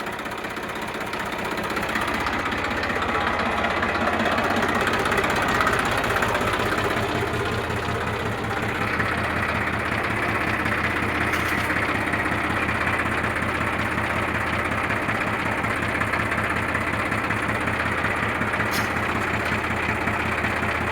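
Massey Ferguson 7250 DI tractor engine idling steadily nearby, a continuous low diesel chug with a knocking rumble and mechanical vibration, unbroken for the whole stretch and with no talk.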